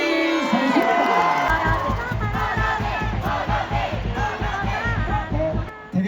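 A packed baseball stadium crowd roars and chants at the Doosan Bears' final home game during the player introductions, a loud, sustained wall of cheering with rising shouts over a faint amplified voice.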